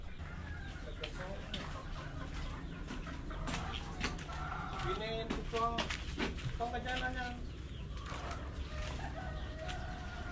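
Small chickens cluck and chirp in a new coop, a busy flock calling in short repeated notes at moderate distance, with people talking over the birds throughout.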